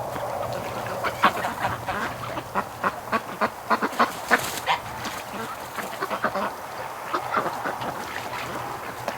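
Wintering ducks and geese gathered near a heater give off a steady run of short quacks and honks, moderately close and fairly soft, with no one talking.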